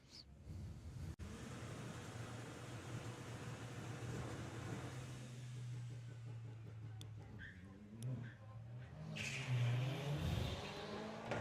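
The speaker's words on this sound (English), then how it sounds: "Phil Jones will be going first with the Audi A3" An Audi A3 at a VW drag racing event, a distant engine droning and building in revs at the start line, then pulling away in a louder surge near the end against track ambience.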